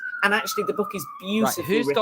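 An ice cream van's chime rings out from a street in South London as a steady tone that carries through the clip, heard beneath close conversational speech.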